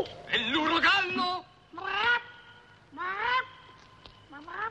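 A voice imitates the cry of a capercaillie in an Italian film comedy, giving four loud honking, goose-like squawks separated by short pauses.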